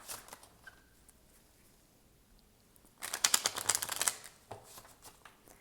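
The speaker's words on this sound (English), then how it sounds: "I'm going to shuffle these cards." Quiet rustling, then about a second of crisp rapid fluttering as a deck of tarot cards is riffle-shuffled close by.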